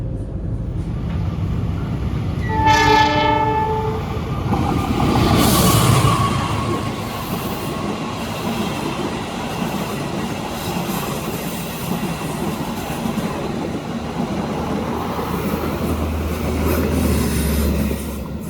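A stationary Pasundan New Generation train waits while the Argo Wilis express passes on the adjacent track, giving a horn blast early on, then a long loud rolling rumble and clatter of passing carriages that gradually steadies.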